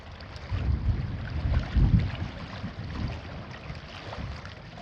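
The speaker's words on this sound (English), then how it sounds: "it's just pretty much just a steady wind now" Steady wind at a lakeside campsite on Tuscarora Lake, a low blustery rumble buffeting the microphone with soft swells, constant and close, no talking.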